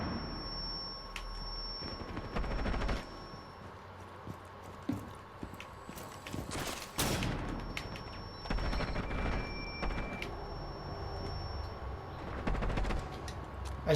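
The Jackal gun in a video game fires in short bursts of rapid shots with heavy recoil, giving sharp repeated bangs spread across the clip over a background of game noise and tones.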